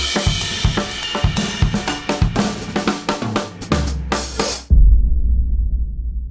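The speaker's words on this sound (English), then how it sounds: "want a fat floor tom sound like this one" A low, fat floor tom is struck amid a busy drum pattern of rapid hits, then a final deep floor tom boom rings out alone, booming and decaying slowly over the last seconds.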